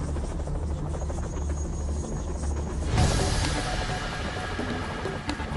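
Rescue helicopter at an air crash site, a continuous loud rotor and turbine drone that swells and brightens about halfway through, steady throughout with no speech.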